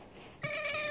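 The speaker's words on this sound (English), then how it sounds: "That is like a big old furball cat." A fluffy cat lets out a single short, clear meow close by, rising out of quiet room noise near the end.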